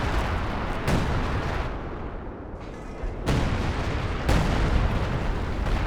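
Sexton self-propelled guns fire artillery in a 3v3 Company of Heroes 2 battle, with repeated heavy booms and rumbling blasts that come in waves over dense, continuous battlefield noise.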